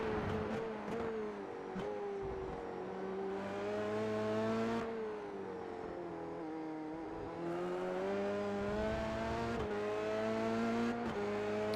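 A Dallara F3 race car in iRacing screams around Silverstone at full throttle, its high engine note climbing through the gears with sharp upshifts, loud and alone.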